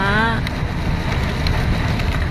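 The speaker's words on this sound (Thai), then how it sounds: "ฝนตกเยอะเลย" Heavy rain drumming on a car while sitting inside it, a steady dense wash of broadband noise with low rumble throughout, close and continuous, with a brief whistling tone at the start.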